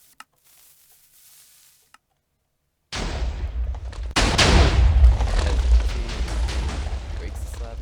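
A Minecraft TNT stacker fires after near silence: a sudden burst of rumbling blasts, then a heavier explosion surge with crackling debris that keeps roaring and booming for several seconds.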